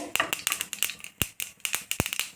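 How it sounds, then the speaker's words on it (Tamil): Mustard seeds pop and splutter in hot oil, a quick irregular series of sharp crackles close up, with no talking. "கடுகு விட்டுட்டு கொஞ்சம் கடுகு வெடிக்கட்டும்"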